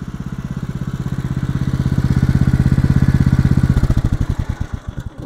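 Engine on a Norwood LM29 portable sawmill running steadily, a loud, close, rapid pulsing putter that slows and sputters out as it is shut off.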